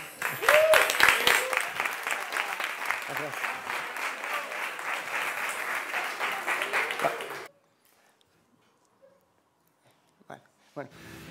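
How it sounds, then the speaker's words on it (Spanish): Audience applause at a business idea demo day presentation in Las Palmas: loud, dense clapping for about seven seconds that stops abruptly, followed by near silence and a few faint sounds. "Un fuerte aplauso."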